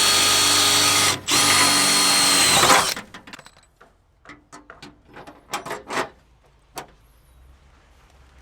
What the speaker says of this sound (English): I also noticed that I needed to drill one hole in each fender